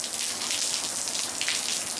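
Heavy rain from a summer thundershower pours onto turf and a flooded sidewalk: a dense, continuous, loud hiss of falling water with no breaks.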